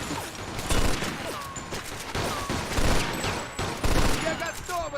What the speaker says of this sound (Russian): Хватит уже палить!